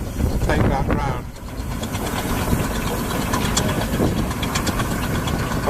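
A vintage road roller's engine chugs steadily as it works a field at a country show, a constant mechanical rumble with a rhythmic knock, while people talk over it.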